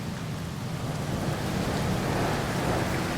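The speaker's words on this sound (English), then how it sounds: "Oh, we got a storm." Rain and thunderstorm ambience in the No Man's Sky video game: a loud, continuous broadband hiss of heavy rain with a low rumbling undertone of thunder, steady throughout with no talking.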